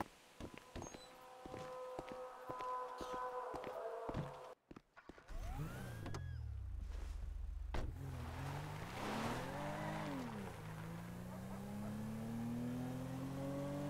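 Car engine in GTA V, first a revving, shifting motor with rhythmic clicks, then after a brief cut a low droning drive whose pitch rises and falls as it accelerates, fairly close and continuous.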